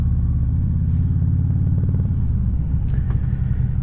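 A motorcycle rumbles steadily on the road, heard close from the rider's position, with a low engine drone and a brief clatter near the end.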